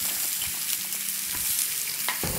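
Onion frying in a drizzle of oil in a hot pan for mutton chops, a steady broadband sizzle with soft crackles throughout, close and fairly loud, no voices.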